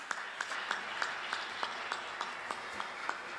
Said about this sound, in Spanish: Así que un aplauso para Marruecos.